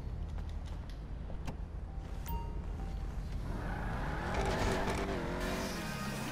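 A blue car in GTA 5 Online, an open-world video game, starts off with a rising engine whine that builds and changes pitch as it accelerates, preceded by clicks and clatter, close and loud.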